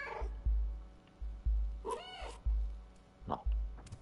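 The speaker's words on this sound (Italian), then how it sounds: "Ma ho sentito un altro Mao?" A cat meows in the video game Stray, a short mid-pitched call standing out over a steady rhythmic low thumping backdrop, with another faint meow following later.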